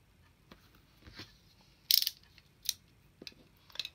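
Paper edges are trimmed with scissors while a coin envelope is made, giving a few faint, sparse snips and crisp cutting clicks in an otherwise quiet room.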